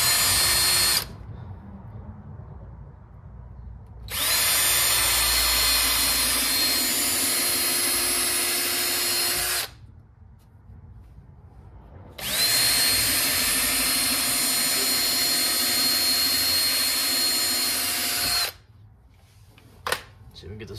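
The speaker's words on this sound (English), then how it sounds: "Drill this out." A power drill drilling out metal runs in two long, loud bursts of steady whine, with a short pause between and quieter background noise before and after.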